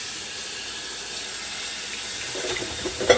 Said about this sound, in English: I'm just gonna rinse some of these